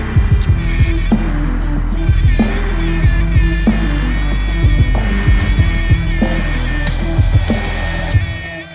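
A Wen scroll saw cuts a wooden block with a steady motor hum and a rhythmic rattling buzz, the blade strokes pulsing evenly and loudly up close, with no voices.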